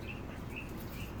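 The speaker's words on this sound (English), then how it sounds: "There's another one of those loud birds that I just really love." Near a beach, a bird repeats short, bright chirping calls in quick succession, faint over a low background rumble of wind or surf.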